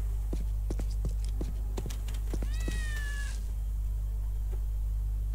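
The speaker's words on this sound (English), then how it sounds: "I hear a cat and I want it because I can then sell it." Cat meowing in the video game Postal 2: one drawn-out, rising meow stands out clearly, set among a few short taps and clicks over a steady low hum, with no talking.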